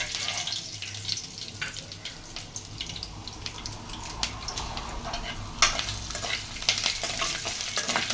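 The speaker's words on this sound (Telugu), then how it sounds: "ఎండుమిరపకాయలు, పచ్చి మిరపకాయలు, అల్లం ముక్కలు కూడా వేసుకొని బాగా వేయించుకోవాలి." Red and green chillies, ginger pieces and lentils frying in oil for Andhra lemon rice, a steady close sizzle with frequent stirring scrapes in the pan and a faint trickle of water in the background.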